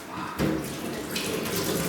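Tap water runs steadily into a sink as cut potato chunks are rinsed, a close, continuous splashing rush that swells partway through.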